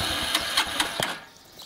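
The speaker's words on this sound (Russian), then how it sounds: "Что-то сегодня и бензопила не заводится." A petrol chainsaw engine sputters and fails to start. It gives a few sharp, evenly spaced pulling and coughing bursts close by, then falls quiet.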